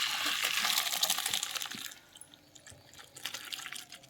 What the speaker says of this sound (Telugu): ఇప్పుడు వడగట్టేసుకుందాం